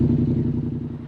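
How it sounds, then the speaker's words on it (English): Polaris RZR-style Yamaha Rmax 1000 side-by-side fitted with an RPM Performance exhaust muffler, a loud, steady low engine drone with slight rhythmic pulsing, close by and alone. "So RPM performance exhaust, definitely much louder than stock."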